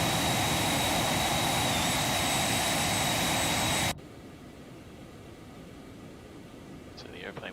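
Jet engine roar of an Aerobask Phenom 300 business jet doing a flyby in a flight simulator, a loud steady blast with a high whine that abruptly cuts to a quieter hiss.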